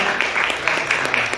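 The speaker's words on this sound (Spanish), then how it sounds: "Dile palmas al Señor por su mano." A church congregation claps for the Lord after a sermon, a dense wash of applause with sharp repeated peaks, fairly close and steady throughout the short stretch.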